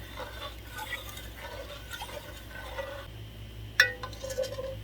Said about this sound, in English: now we're gonna pour this over our banana peppers.